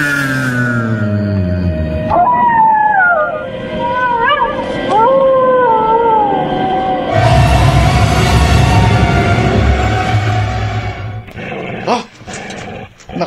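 A large black dog howls in a Filipino horror radio drama, rising and falling wails over a dense low rumble, followed by harsher growling and noisy bursts toward the end.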